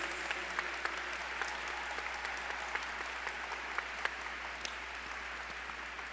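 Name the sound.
audience applause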